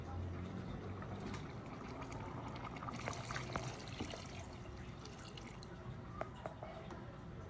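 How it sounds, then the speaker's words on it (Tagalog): Water poured into a cooking pot while a home-cooked dish simmers, a steady low trickle and splashing running throughout with faint drips, close and fairly quiet, with light kitchen clatter. "Dagdagan uli natin guys ng tubig"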